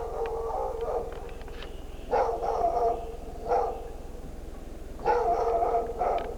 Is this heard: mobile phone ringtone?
no